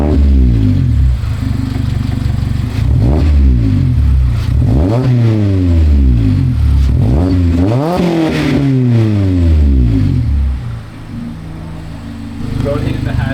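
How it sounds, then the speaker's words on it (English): Mazda ND Miata fitted with a Tomei Expreme Ti titanium exhaust, loud and close, rising and falling through repeated sharp revs after starting, with a brief dip near the end; people talk over it at times. "Let's start the car."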